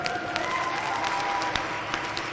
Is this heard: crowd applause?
yes